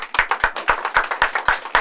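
Audience applause at a banquet dinner: steady, evenly spaced hand claps repeat about four times a second, crisp and close, with no voices.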